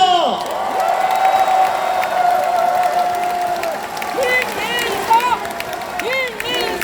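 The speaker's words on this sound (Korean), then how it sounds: "함께 뜨거운 박수를 보냅시다" Crowd at a Democratic Party convention event in Gwangju and South Jeonnam applauds and cheers steadily, a broad wash of clapping with scattered shouts and voices rising over it.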